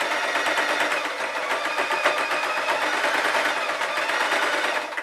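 A sewing machine stitches fleece fabric in a steady, rapid mechanical whir of needle strokes that continues evenly for the full five seconds, close up with no talking.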